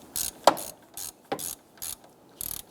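A hand ratchet clicks in short bursts while tightening a nut on the alternator of a 2008-2013 Nissan Rogue, several quick close rattling runs separated by brief pauses and a couple of metallic knocks.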